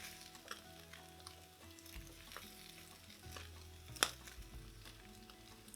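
Spam slices frying in a pan as they go back into the heat, a soft continuous sizzle broken by a few light pops and one sharp clink partway through.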